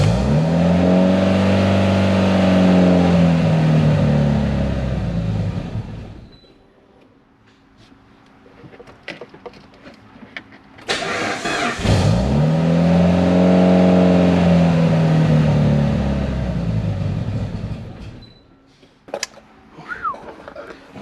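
A built Mitsubishi Evo 8 engine idles with a loud, choppy lope in two long stretches, each with a swelling rumble, separated by a quieter gap with faint clicks and background noise.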